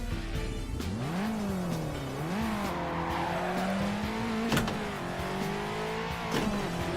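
A drifting car in the Assetto Corsa racing game, engine revving up and down in wavering sweeps while tires squeal steadily through the slide, with a couple of sharp knocks.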